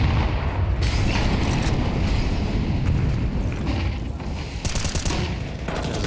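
A grenade blast and bursts of rapid gunfire fill a Counter-Strike match, loud and continuous, with dense firing rattling over a heavy rumbling background and a brighter volley near the end.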